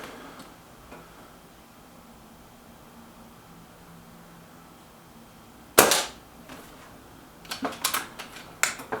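A Reximex Ixia Compact air rifle fires a single sharp, close crack after a long quiet stretch, followed by a cluster of lighter mechanical clicks and snaps as the gun is handled and recocked.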